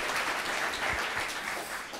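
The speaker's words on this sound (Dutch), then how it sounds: "Geef haar een applaus." An audience applauds a presenter at the Solar Team Twente design presentation, a steady, dense wash of clapping that stays fairly even throughout with no talk over it.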